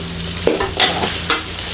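Sausage fried rice being stir-fried in an oily pan, a steady close sizzle broken by scraping stirs of the spatula at a loose rhythm.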